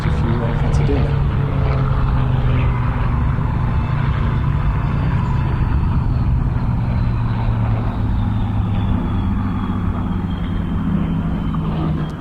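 Four Hawker Hurricane fighter planes fly in, a steady, loud propeller-engine drone filling the whole stretch with a slowly shifting tone.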